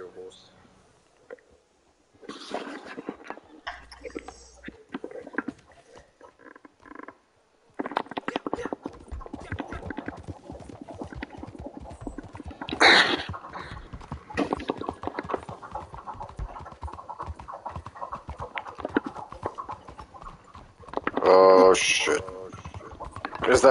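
Horse hooves clip-clop at a steady trotting rhythm in the video game Red Dead Redemption 2, with people talking intermittently over the hoofbeats.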